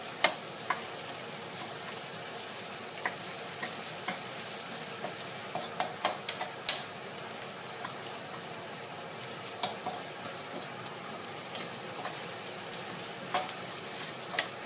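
Catfish and spices stir-fry in a hot pan, a steady close sizzle throughout with occasional clicks and scrapes of a utensil, no voices.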